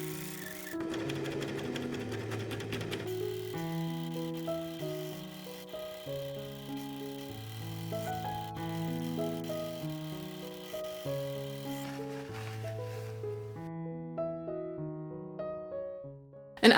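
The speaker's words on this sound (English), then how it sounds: "I just spent hours doing the quilting before overlocking around the panels" An overlocker sews around quilted corset panels, a continuous fast mechanical whirr running under melodic background music.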